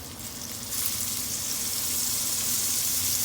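Salmon sears in a pan of hot olive oil and butter, setting off a loud, steady sizzle that swells as the fish goes in and then holds strong and even.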